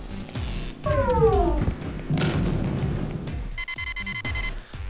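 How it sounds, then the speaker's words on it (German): Electronic alarm in the video game Crusader: No Regret, a warbling, rising siren-like tone amid game sounds and effects, followed by a steady high beeping pattern. "Monitor ist nicht verfügbar, wahrscheinlich wegen dem Alarm."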